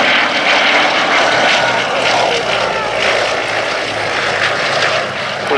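A Westland Lysander's propeller engine drones loudly and steadily overhead during a flying display, a close, continuous roar that never lets up.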